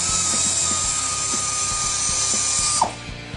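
An Ingersoll Rand cordless ratchet is used to remove a car's suspension shock and spring, giving a steady, loud, continuous mechanical whir with rapid clicking. The sound cuts off sharply near the end.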